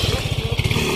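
Motorcycle engine of a thief fleeing on a stolen bike, a steady low pulsing putter close by and loud, running throughout without speech.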